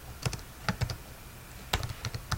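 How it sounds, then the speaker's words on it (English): Clicks of typing on a computer keyboard, close and crisp, in two quick clusters of keystrokes separated by a short pause, with no talking. "open up my little typewriter here"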